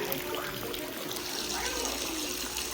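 Spring water trickles steadily from a waterfall above a Mahadev temple, a continuous close splashing wash with a voice faintly underneath.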